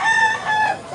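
A two-year-old rooster in Mantalungon, Cebu gives one short, loud, close crow lasting about a second, with no other sound.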